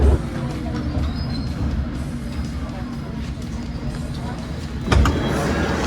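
A London Underground train rolls steadily with rattling wheels and a low roar, then a short thump and brief squeal near the end as it slows into Paddington Station.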